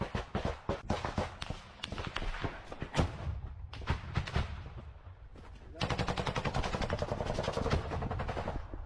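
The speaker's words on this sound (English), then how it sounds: "he grabs his AK and just unloads, over the wall." AK rifle gunfire in combat footage from the war in Ukraine: rapid cracking shots in irregular bursts, then a long sustained volley of automatic fire toward the end, with scattered echoing reports.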